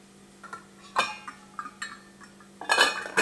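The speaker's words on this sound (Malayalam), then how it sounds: "വെള്ളം പെട്ടെന്ന് തിളയ്ക്കാൻ വേണ്ടിയിട്ട് ഞാൻ അടച്ചു വയ്ക്കുകയാണ്" A metal lid set onto a pot of water on a stove while making vegetable Hakka noodles, a few light clinks and clatters ending in a louder rattling clank, close and clear.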